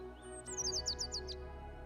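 A mynah bird chirping in a Hindi folk tale: a quick run of bright, high chirps, fairly clear over a soft background tone.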